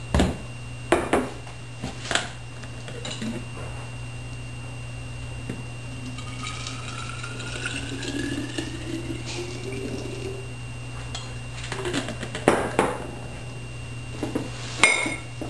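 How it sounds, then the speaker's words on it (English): Microwave-heated hot water is poured into a thermos in a small kitchen, with clinks and clatter of the container and lid, a rising filling tone, and a steady hum underneath. "And I'm going to add it to my thermos."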